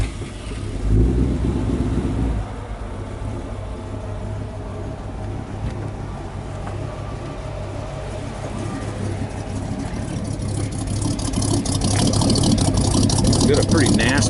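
A 1936 Chevrolet pickup with rectangular stainless steel exhaust tips fires up with a brief burst, then settles into a rough, throaty idle that grows louder and busier toward the end.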